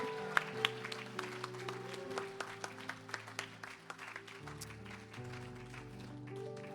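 A church congregation applauds the Lord with a steady run of claps over sustained organ or keyboard chords, moderately loud and evenly paced.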